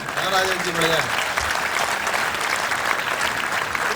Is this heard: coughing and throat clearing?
no